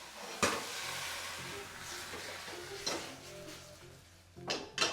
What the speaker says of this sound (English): we're going to let some of that alcohol just burn